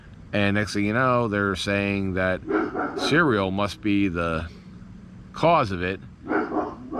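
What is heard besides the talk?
dog barking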